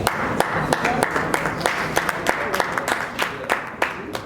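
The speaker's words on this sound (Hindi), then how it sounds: "आप सबके लिए ताली।" An audience at a Giants Group of Jodhpur swearing-in ceremony claps for the guests on stage, a moderate, fairly rhythmic round of applause with distinct sharp claps over a hall murmur.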